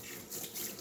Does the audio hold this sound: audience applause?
no